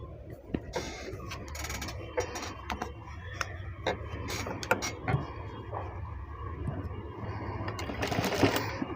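Sewing machine running at a tailoring table as cloth is stitched, a steady mechanical whir with clicking ticks that carries through the whole stretch at moderate loudness.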